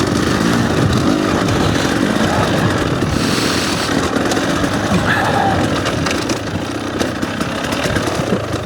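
Dirt bike engine running steadily during an enduro ride in rough winter weather, a loud continuous drone close to the mic mixed with wind buffeting and no clear pauses.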